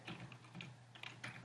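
Light, quick tapping on a computer keyboard, a short run of soft, close keystrokes over a faint steady hum.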